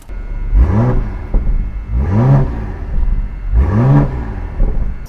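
A BMW M340i six-cylinder engine revs hard three times around 2000 rpm, each blip rising and falling in a loud, close rumbling whine.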